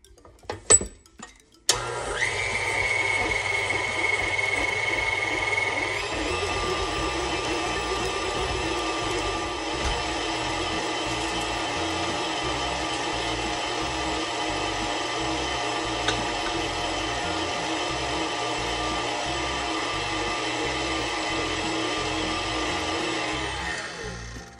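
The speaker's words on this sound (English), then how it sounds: "use the wire whisk attachment to beat the cream cheese and sugar mixture until fluffy" A stand mixer's wire whisk attachment beats cream cheese and sugar for a New York cheesecake, a steady loud motor whir with rhythmic whisking that starts after a short pause and runs unbroken for over twenty seconds.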